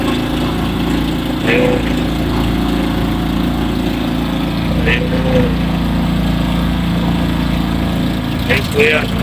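A motorboat engine drones steadily and loudly throughout, with a few brief voices calling out over the engine noise.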